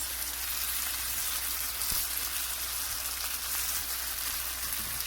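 A keto pork chop fries in a pan, giving a continuous, bright hiss and crackle of sizzling fat that stays even and close throughout, with no talking over it.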